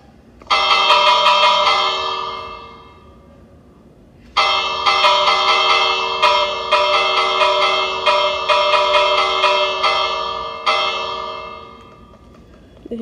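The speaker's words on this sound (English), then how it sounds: "That's why I got that bell for." A village bell in the Minecraft video game rings out in clear metallic strikes: a first ringing that decays, a pause, then a rapid series of repeated clangs that gradually die away.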